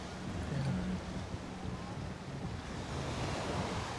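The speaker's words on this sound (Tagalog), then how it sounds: "Kaya lang maalon nga ngayon." Rough surf rolls in steadily at a beach in Lian, Batangas, a continuous broadband wash of waves with wind noise on the microphone and no talking.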